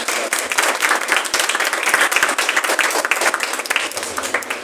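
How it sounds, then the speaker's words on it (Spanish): A book-fair audience applauds a science fiction editor, dense sustained clapping from many hands in a hall, steady and fairly close for several seconds. "otro aplauso para Cayetano"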